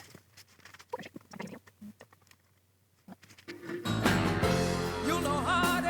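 A 1976 album spins on a vinyl record, crackly surface pops and clicks at first, then the music comes in loudly with vocals and instruments.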